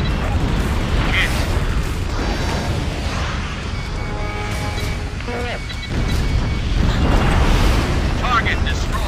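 Explosions and destruction of enemy targets in an Ace Combat Infinity B-2 sea strike, loud rumbling booms and crashes over jet engine noise, with radio voices talking.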